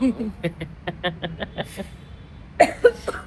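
A short series of soft, rapid coughs or huffs from a sick woman, then a couple of louder coughs near the end, close by.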